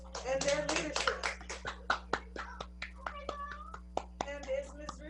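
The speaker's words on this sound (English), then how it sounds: "let's give a nice round of applause to these awesome debaters and their leadership" Participants in an online school recognition meeting unmute and clap, producing sparse, uneven hand claps and taps over a steady electrical hum, with soft voices murmuring among them.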